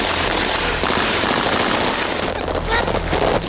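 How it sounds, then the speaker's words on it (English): Rapid automatic gunfire during an SAS VIP protection drill, a dense continuous volley of loud close shots with a faint voice beneath. "start putting fire down"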